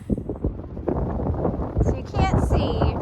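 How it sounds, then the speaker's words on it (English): Strong wind on a snowy mountain top while snowshoeing: gusty, buffeting rumble across the microphone throughout, with brief higher-pitched tones and noises near the end. "it's also really windy"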